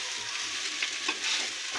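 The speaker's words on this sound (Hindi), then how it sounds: "2 से 3 मिनट तक ये ऑयल में फ्राई करना है" Carrot mash frying in oil, a soft, even hiss of sizzling with faint stirring scrapes, close but fairly quiet, continuous and without talk.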